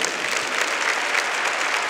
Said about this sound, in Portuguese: Eu queria que você aplaudisse esse cristão que está aí do seu lado.